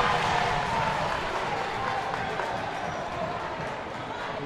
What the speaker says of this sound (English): You got the crowd going nuts right now. They got the crowd getting heavy. Oh, it's getting loud right now.